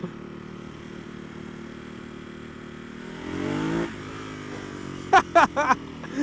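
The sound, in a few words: Ducati Hypermotard 939 motorcycle exhaust popping while riding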